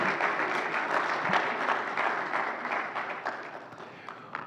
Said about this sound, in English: You might have a big round of applause, yeah